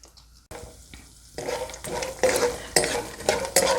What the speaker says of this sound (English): These peanuts I have just microwaved for a minute or so it's easier to fry them.